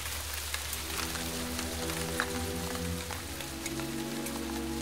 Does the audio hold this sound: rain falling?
yes